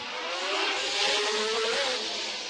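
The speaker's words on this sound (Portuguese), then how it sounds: "Mas Alesi dá o troco imediatamente. Emparelha e passa Senna na curva." Formula 1 race cars battle side by side through a corner, a high-pitched engine whine rising and falling as they overtake, loud and continuous with a smooth pitch sweep.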